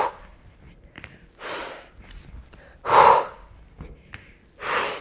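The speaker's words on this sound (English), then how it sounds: "Here, exhale." Heavy, forceful exhales during an upper body and core workout: three or four strong breaths about a second long, with quieter breathing and small clicks between them.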